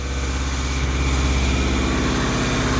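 A Mitsubishi-swapped Dodge Challenger runs after the motor swap. The engine idles with a loud, close, throbbing rumble and a steady pulse, and no talk is heard over it.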